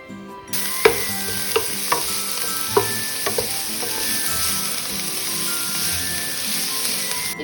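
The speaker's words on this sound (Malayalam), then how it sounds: "ഇനി നമുക്ക് സവോള വഴറ്റിയെടുക്കാം." Sliced onions and green chillies sauté in a pan for a spinach thoran. A hissing sizzle starts abruptly, with several crisp clicks and scrapes of stirring in the first few seconds, then settles into a steady fry.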